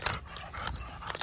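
Dogs panting nearby in a mixed group of big and tiny dogs, a steady breathy huffing that runs through the whole moment with slight swells and no talking.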